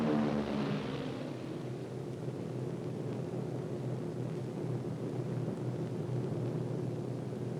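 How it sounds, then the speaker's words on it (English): B-26 Marauder bombers take off down a wartime airfield strip one after another, a broad rumbling engine roar that swells at the start and then holds as a steady, moderately distant drone. "The Marauders run down the strip at intervals of 15 seconds and head for the rendezvous point over England"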